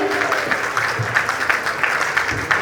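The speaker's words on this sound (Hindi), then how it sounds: "एक बार इस बच्चे के लिए जोरदार तालियां" A crowd claps for a child at a bhajan evening in Mahisagar, brisk rhythmic applause with distinct individual claps, close and loud, carrying on steadily without voices.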